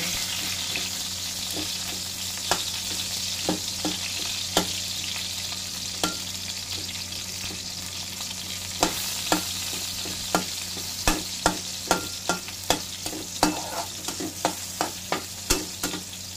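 Garlic fries in a generous amount of cooking oil with a steady, hissing sizzle, broken by sharp clicks and taps of a utensil stirring the pan.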